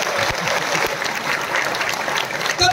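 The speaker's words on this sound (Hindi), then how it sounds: "अरे अब तो जोर से ताली बजा दीजिए।" An audience at a bank union meeting claps loudly and continuously, a dense crowd of hands applauding close by without pause.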